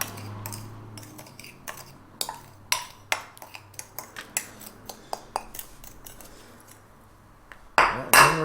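Utensils mix blackened seasoning in a small dish with a string of sharp, irregular metallic clicks and taps, close and fairly quiet, ending in a louder clatter.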